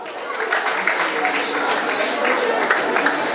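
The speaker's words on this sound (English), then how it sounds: "round of applause to Amanda" Applause from a talent-show audience for a young child performer on stage, a steady dense wash of clapping at moderate level throughout, with the crowd's murmur under it.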